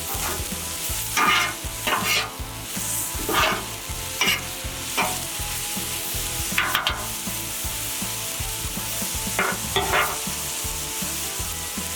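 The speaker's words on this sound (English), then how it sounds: "Now while that steak's searing away," Cheesesteak beef sears on a flat griddle with a constant crackling sizzle, while a spatula scrapes and chops across the metal in irregular rhythmic strokes.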